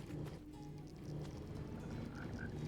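Frogs croak in a Minecraft nether farm, faint and low in the game's ambient background for a couple of seconds.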